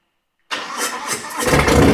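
A Harley-Davidson motorcycle engine fires up after half a second of silence, a loud, close, rough rumble that builds and settles into a strong idle.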